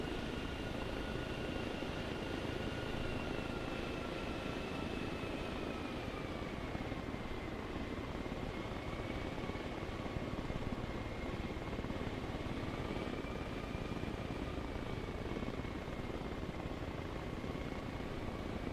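A helicopter engine in Arma Reforger, idling inside a tower while burning, drones steadily and loudly for the whole stretch with a constant low rumble and a faint whine wavering above it.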